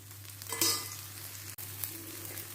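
Oil sizzles on an iron dosa pan while an onion rava dosa cooks, a soft steady crackle with a brief louder hiss and a utensil scrape partway through, over a low constant hum.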